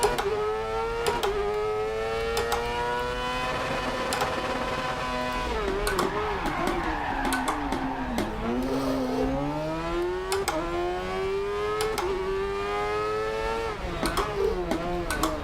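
A Kross Cart racing engine in DiRT Rally 2.0, screaming as it revs and accelerates hard through repeated gear changes, its rising and falling pitch sweeping up again after each shift, with occasional faint speech underneath.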